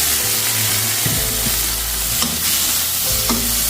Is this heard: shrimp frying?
yes